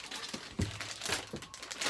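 A close, continuous crinkling of a plastic bag being handled in a boatyard during filter changes on a Rival 41 sailboat, rustling loudly for a couple of seconds.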